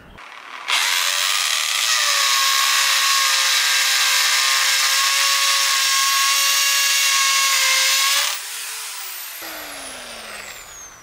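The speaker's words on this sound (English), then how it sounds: "now it comes to the impact drill mode. So that means it's ready to work on a brick wall." A corded Bosch GSB 500 RE impact drill runs steadily in impact mode against a brick wall for about eight seconds, a loud, sustained whine with rattling texture, then winds down with a falling tone.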